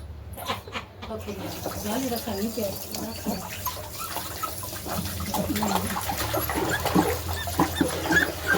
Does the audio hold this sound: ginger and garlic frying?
no